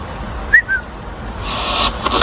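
A short, clear whistle sounds, a quick rising tone and then a lower, longer note, heard in a quiet room during a paranormal investigation, followed by faint rustling and hiss.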